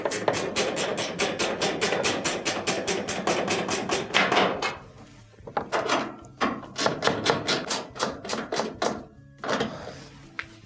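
A hand ratchet tightens screws on a dryer's top panel, giving rapid, crisp, evenly spaced clicks in close bursts with a short pause between runs.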